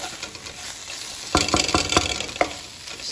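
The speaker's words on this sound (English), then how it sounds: "gonna leave that sizzling for a minute" Curry base of aromatics sizzling in a pan in a home kitchen for a British Indian curry, a soft steady hiss with a burst of stirring scrapes midway, close and fairly quiet.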